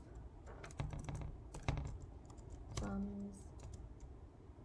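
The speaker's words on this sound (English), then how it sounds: "I'm going to type it out here" Clicking keystrokes on a computer keyboard as a formula is typed out during a data science coding session, a quick irregular run of taps heard close up beneath a voice speaking over it.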